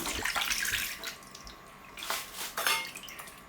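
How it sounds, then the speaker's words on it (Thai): Raw pork tongue from the market being rinsed under running water in a kitchen sink, a steady close splashing rush with sloshing surges and light clinks, no talking. "นำมาล้างคราบสกปรกต่างๆ ออกนะครับ"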